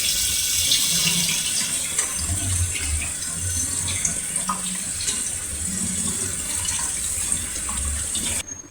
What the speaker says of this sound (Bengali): ঠান্ডা পানি দিয়ে দুধের ছানাটা ধুয়ে নেব।